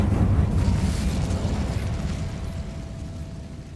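A fiery Incendio spell explodes in Hogwarts Legacy, giving one loud rumbling burst that slowly fades into a lingering roar with no voice over it.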